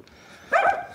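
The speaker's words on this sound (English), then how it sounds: "Now we're in the car away from them vicious animals, barking away like there's no tomorrow." A dog barks briefly from some distance outside a car, one short muffled bark over low background rumble, with no talk.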